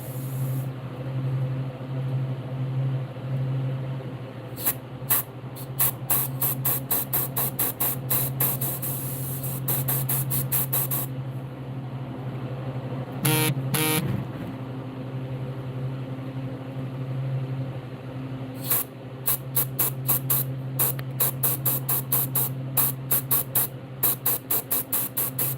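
An airbrush test-sprays dark green paint in a rapid series of short hissing bursts, plus one longer spray, over a constant low hum. The sound is close and fairly loud, with no talking.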